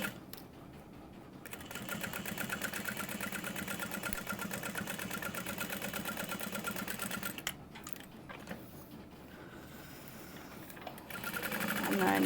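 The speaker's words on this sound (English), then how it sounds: "And then I'm just gonna sew across that top edge to start, to keep all of that together." A sewing machine stitches steadily across the top edge of a quilted trick-or-treat bag, its rapid mechanical whir running continuously with a short pause near the end. A voice talks over the stitching throughout.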